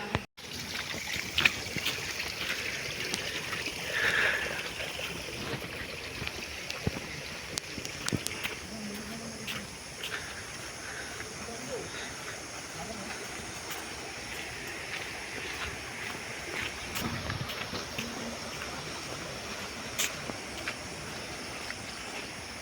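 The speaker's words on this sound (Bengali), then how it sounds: "পাহাড়ের পাশ দিয়ে এরকম পাহাড়ি ঝর্ণা বেয়ে চলা অসম্ভব সুন্দর দেখায়" A hill stream flowing beside a mountain trail near a waterfall in Bangladesh, a soft steady trickle and rush of water heard from a short distance, with faint footsteps and light wind.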